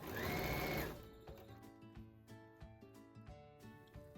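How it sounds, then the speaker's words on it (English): A sewing machine chain piecing quilt strips for a baby quilt runs in a steady, quiet whirring stitch rhythm, preceded by a brief louder burst of broadband noise at the start. "here I'm just chain piecing along and trying to mix up the colors as much as possible"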